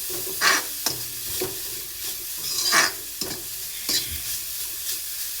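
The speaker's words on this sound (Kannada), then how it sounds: "ಈ ರೀತಿ ಚೆನ್ನಾಗಿ ಮಿಕ್ಸ್ ಮಾಡ್ಕೊಳ್ಳಿ" A coconut mixture is stirred and fried in a pan, with repeated scraping strokes and spoon clicks over a low continuous sizzle, close and without voices.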